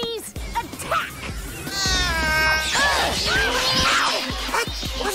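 Cartoon kittens meow and yowl in a noisy swarm as they pounce to attack, with harmonic cries rising over thumps and crashes and voices heard through the scuffle.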